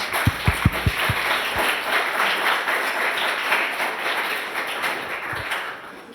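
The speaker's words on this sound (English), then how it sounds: "just a hand of applause for the panelists" An audience at a panel discussion on nutrition in low and middle income countries applauds the panelists, a dense steady wash of many hands clapping from a distance, with a few louder close taps at the start.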